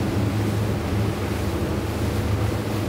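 A Phenom 37 motor boat with twin 600 hp V12 Mercury outboards cuts through open water at about 37 mph, making a steady, loud rush of water and wind noise with a low engine drone beneath and no talking.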